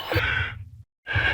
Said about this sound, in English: you have to listen to Hajime's wonderful breathing noises on loop